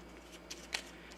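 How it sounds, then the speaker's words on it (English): A deck of relic cards for a board game is shuffled by hand, a brief, soft riffle with a couple of crisp card snaps and no talking. "shuffle them up"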